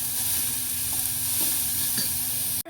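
Grated beetroot frying in a pan gives a steady, close hiss of sizzling oil, broken by a few light spatula stirs, before the sound cuts off abruptly.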